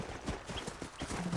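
Horse hooves clip-clop in the Red Dead Redemption video game as horses walk on the way to the cliffs, with a quick uneven run of faint hoofbeats.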